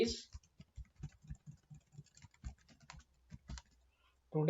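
Quick irregular keystrokes on a computer keyboard, typed while entering a sentence into an Excel spreadsheet cell, clicking steadily at close range with brief pauses and a faint voice at the edges.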